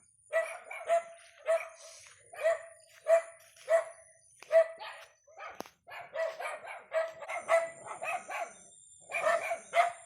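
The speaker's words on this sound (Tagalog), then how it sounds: "Ang ingay ng mga aso." Several dogs on a farm bark repeatedly and close by, a steady run of sharp barks with brief pauses, some yips mixed in.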